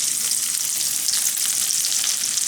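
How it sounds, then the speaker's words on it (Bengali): Chopped onions fry in hot mustard oil in a kadai, a steady bright sizzling hiss, close and even throughout with no voices. "এখন দিয়ে দিচ্ছি পেঁয়াজ কুচি।"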